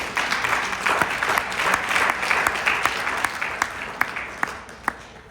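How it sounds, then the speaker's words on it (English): An audience applauds an interpreter during a business talk about the Czech, Polish and Hungarian markets. The clapping is dense, steady and moderately distant, with a few sharp individual claps standing out near the end. "Let's give our interpreter a big round of applause."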